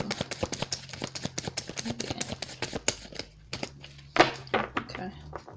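Tarot cards are shuffled by hand in a series of quick, crisp riffling and tapping clicks close by, irregular in rhythm, with a few louder snaps near the end.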